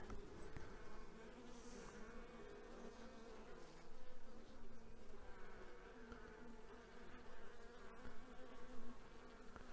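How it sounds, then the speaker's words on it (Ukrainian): Honey bees swarm inside a nucleus hive in September, giving a dense, continuous buzzing drone that stays steady and close for the whole stretch with no voices. "Така кількість бджілок."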